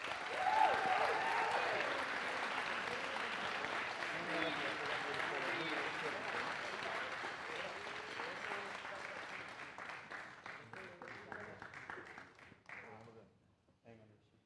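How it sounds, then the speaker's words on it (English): Audience applauds a senior flute player from the Norwood High School band receiving an award at a spring band concert; steady, dense clapping fills the room for about twelve seconds, then thins into scattered claps and fades out. "Give a huge round of applause for senior Caroline Kelly"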